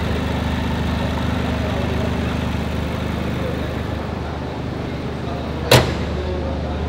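A Toyota GR Yaris fitted with an MST air intake idles, a steady low rumbling hum that holds evenly throughout, broken once near the end by a single sharp click or knock.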